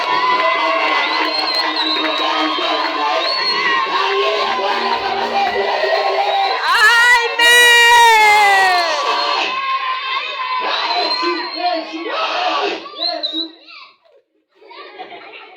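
A church congregation erupting in clapping, cheering and high shrill ululation, loud and crowded, swelling in the middle then fading to near silence at the end.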